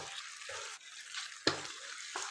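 Minced meat goes into fried masala in a pan, giving a soft continuous sizzle broken by a few scraping stirs and one sharp clink of a spoon, close and fairly quiet.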